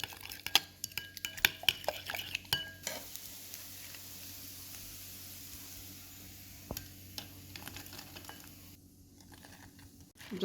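A spoon stirs a nutmeg, honey and chili flake BBQ sauce in a bowl, giving quick clustered clinks and scrapes up close, then a quieter stretch with a few isolated taps.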